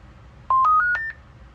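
An AnyTone AT-5100 10 meter amateur radio powering up gives a quick rising run of four or five clean electronic beeps, close and clear over a quiet background.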